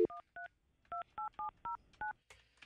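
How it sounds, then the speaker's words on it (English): A landline princess phone beneath a bed plays eight crisp touch-tone dialing beeps, each short and evenly spaced, followed by a faint rustle. "All right, calling Michelle on the landline princess phone, which is underneath my side of the bed."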